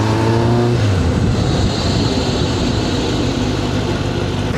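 A car engine runs steadily while driving, a loud, close, continuous low rumble that holds constant throughout with no talk over it.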